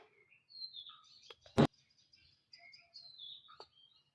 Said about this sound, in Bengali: গ্রামে অনেক পাখি আছে। তারা সবসময় কিচিরমিচির করে।